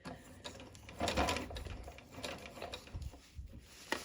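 A sewing machine stitches in quick bursts along the join of shirred elastic and an edge piece on a summer dress, the motor rattling close and quiet with short pauses between runs.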